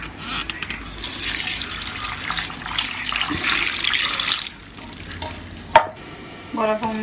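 500 ml of water splashes and pours steadily into a pot for pumpkin soup for a few seconds, then stops, followed by a clank and light kitchen clatter.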